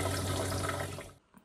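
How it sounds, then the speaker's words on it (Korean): Hot water running at a kitchen sink while dishes are washed, a steady close gush of flowing water that cuts off abruptly near the end. "설거지는 뜨거운 물로 해야 됩니다"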